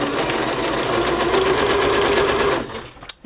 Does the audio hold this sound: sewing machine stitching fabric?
yes